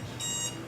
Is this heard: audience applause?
no